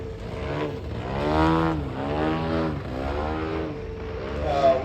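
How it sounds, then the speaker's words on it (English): Engine of a large-scale 52% Skip Model Designs Ultimate aerobatic model aircraft at a flying display, droning loud and close with a propeller tone that rises and falls in repeated sweeps as it performs rolls. "you hear him flipping the engine, and what that's doing is helping the aircraft to roll"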